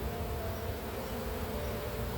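Honeybees hum in a dense, continuous drone around an open hive being split, the buzzing steady and close without any talk.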